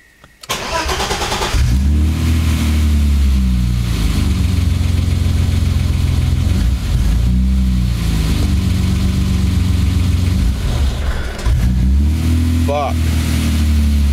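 A BMW E30 engine cranks, catches and runs loud and close, holding a steady idle with a couple of rev swells, while people talk quietly over it.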